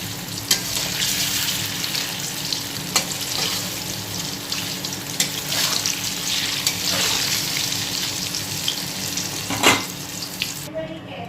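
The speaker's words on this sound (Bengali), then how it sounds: "অনেকগুলো আগে ভেজে তুলে নিই সব" Paneer frying in hot oil for a homemade paneer recipe, a steady close sizzle and crackle with a few sharper pops and spatula scrapes, no talking.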